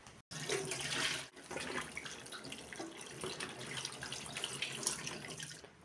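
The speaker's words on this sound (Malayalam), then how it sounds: "ആദ്യം തന്നെ കൂർക്ക നന്നായി കഴുകി വൃത്തിയാക്കണം." Chinese potatoes (koorka) being washed under running water in a kitchen, a steady close splashing rush of tap water with brief interruptions near the start.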